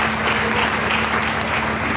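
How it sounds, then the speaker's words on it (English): An audience at an inaugural lecture of the Nigeria French Language Village claps steadily, a dense, even wash of applause with no talk over it. "Please help me clap for our"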